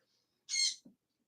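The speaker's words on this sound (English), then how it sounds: "Excuse the angry bird." An angry bird lets out a single harsh, shrill squawk lasting a fraction of a second, followed by a brief low grunt-like note, fairly close in an otherwise quiet room.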